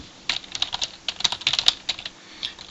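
Fast typing on a computer keyboard while entering a Google search about the Rubik's Cube world record, a steady run of crisp clicking keystrokes heard up close with no talking.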